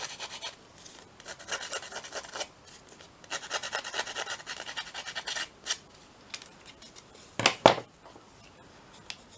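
Scissors scraping and roughing up the edges of journal paper, a steady close rasping and rubbing that comes in stretches, with a sharper scratch near the end.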